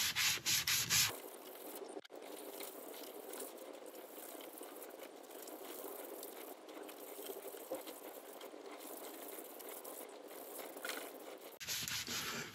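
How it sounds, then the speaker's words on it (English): Wire wool rubs lightly over a woodturned piece with a soft, continuous scratchy hiss. Louder bursts of machine noise open and close the passage. "I'm going to give it a light sanding over with a bit of wire wool"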